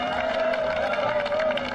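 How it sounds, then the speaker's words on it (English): A crowd at a Takeshi's Castle-style game show bursts into sustained, fairly loud applause and cheering, a steady wash of clapping with a tonal hum running underneath. "Gets an applause from the crowd."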